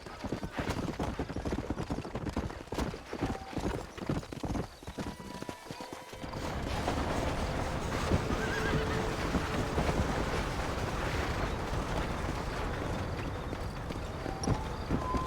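In the Red Dead Redemption western game, a horse's hooves clip-clop in a brisk rhythm, then a neigh rings out before the galloping continues over a steady rushing ambient backdrop.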